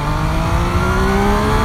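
A 2025 Triumph Tiger Sport 800 motorcycle engine pulls hard with a steadily rising, droning pitch, loud and close throughout a brief burst of acceleration.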